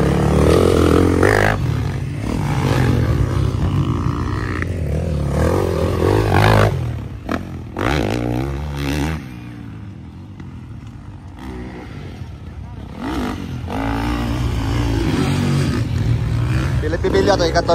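Motocross motorcycles in a Pro Open final race at the Pangantukan competition; loud, close engine roars and revving rise and fall as bikes pass, easing into a quieter lull before building again, with crowd and commentary voices mixed in.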